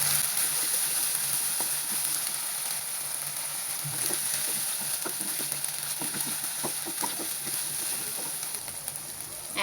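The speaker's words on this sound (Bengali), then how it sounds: "এখানে দিয়ে দিলাম 2 চা চামচ আদা রসুন পেস্ট। একটু ভেজে নিব কাঁচা গন্ধ যাওয়া" Two teaspoons of ginger-garlic paste fry in hot oil for a fish head curry, making a continuous bright sizzle. Scattered light ticks and scrapes of stirring come from close by.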